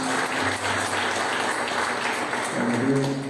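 A church congregation applauds steadily during a service, a dense wash of clapping that carries on throughout.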